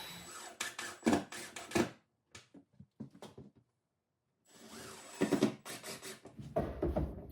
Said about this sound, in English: we're going to put these screws into the wall